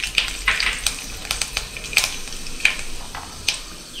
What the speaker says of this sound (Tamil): எண்ணெய் காஞ்சோடனே இந்த வெந்தயம் போடுங்க.